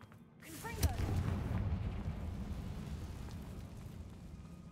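A Confringo blast spell explodes in the Hogwarts Legacy video game: one sharp burst, then a low rumbling roar that trails off over several seconds, fairly quiet overall.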